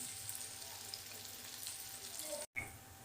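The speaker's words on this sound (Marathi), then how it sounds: "कांदा टाकते मी कांदा आपला भाजून घ्यायचा" Onion frying with cumin in a pan, giving a steady, fairly quiet hiss that is briefly cut off near the end, with no talking.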